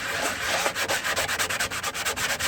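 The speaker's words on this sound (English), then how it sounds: "I'm going to need better sandpaper." Wood, apparently pallet boards, being hand-sanded with medium 120-grit sandpaper: steady rhythmic back-and-forth scratchy strokes, close and fairly loud, about four strokes per second with no talking.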